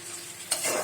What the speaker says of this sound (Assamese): ভাজি পেলাই যেতিয়ালৈকে তেলটো ওলাই নাযায় হয় তেতিয়ালৈকে আমি ভাজি থাকিব লাগিব